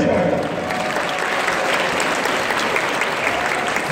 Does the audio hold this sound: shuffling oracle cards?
no